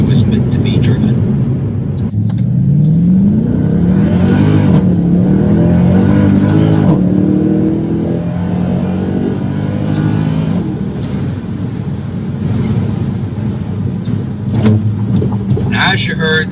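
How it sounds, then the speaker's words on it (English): A Mercedes W204 C63 AMG's 6.3-liter V8 revs and climbs through gears with a rising, rumbling tone, followed by sharp crackling pops from the exhaust, while someone talks over it. "the exhaust makes those beautiful pops and bangs back there"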